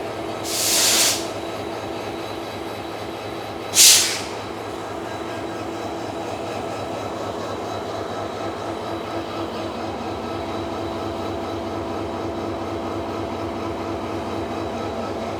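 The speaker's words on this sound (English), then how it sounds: "So this is the train we arrived on, the EST 203." A Malaysian EST 203 train runs with a steady, even rumble throughout, broken by two short bursts of hissing air near the start, with no talking.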